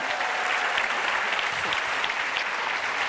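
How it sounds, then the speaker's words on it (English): A large live-show audience gives a big round of applause for a guest named Susie, a dense, loud, continuous roar of clapping filling the space without a break. "Big round of applause for Susie."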